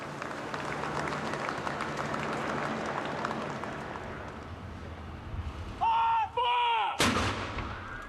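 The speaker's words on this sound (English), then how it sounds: "Her journey would be marked by the sounds of guns, last fired in anger in the battle to retake the Falklands" During Lady Thatcher's 2013 funeral procession, a single artillery salute gun booms over a steady wash of crowd noise outdoors, preceded by a brief whistle-like tone.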